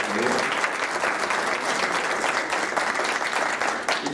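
Steady, full audience applause at a book presentation honoring Octavio Paz, dense clapping from a seated crowd throughout the short stretch.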